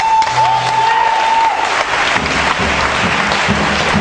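A Sunday church congregation bursts into loud, sustained applause, its clapping filling the room with a steady wash of sound. A held tone rings through the first moments.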